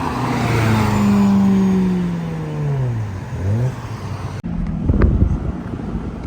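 A Ferrari 355 Spider drives past on a street, its engine note rising and then falling away as it passes close by, fairly loud, followed by rumbling traffic noise and wind.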